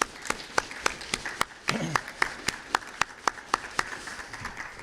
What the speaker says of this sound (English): So big round of applause for all the volunteers.